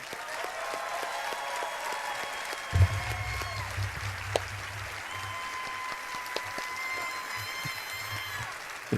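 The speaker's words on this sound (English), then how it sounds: "You're clapping." A large audience applauds at the Bethesda E3 2016 press conference, a dense sustained clapping across the hall with occasional sharper claps and a low rumble joining partway through.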